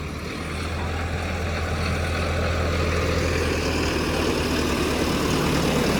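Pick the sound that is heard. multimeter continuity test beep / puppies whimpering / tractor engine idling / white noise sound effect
tractor engine idling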